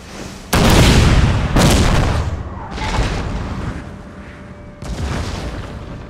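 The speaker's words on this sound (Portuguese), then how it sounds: "Parece que acertou uns caras aqui, o tiro." Several deep cannon booms from the video game Total War: Napoleon roll out in succession, each a heavy blast with a long rumbling tail, loud and without talking.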